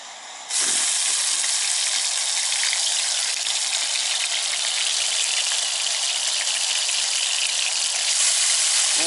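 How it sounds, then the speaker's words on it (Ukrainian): Meat starts sizzling loudly in a hot pan after a brief moment, then a steady, crackling fry continues close by. "так смачно шкварчить"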